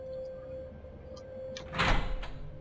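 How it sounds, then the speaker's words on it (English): A locked door in the video game Angels of Death is tried, giving one short rattling thud over a steady low game hum, with a couple of faint clicks just before. "Door's locked."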